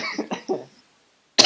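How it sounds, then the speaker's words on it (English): A single sharp, loud cough bursts into a close microphone right after a stretch of laughing talk, then breaks off. "I'm just gonna cough into the microphone because I'm laughing too hard"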